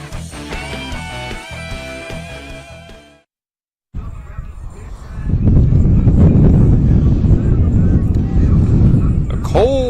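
Music plays for a few seconds, then cuts to a brief silence. Strong wind follows, blowing on a cold evening at an outdoor high school softball field in Spring Mills, West Virginia, and buffets the microphone with a loud, steady rumble.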